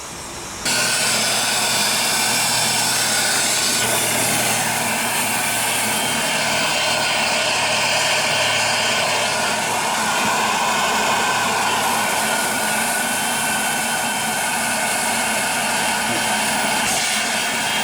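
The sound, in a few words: steam train whistle blowing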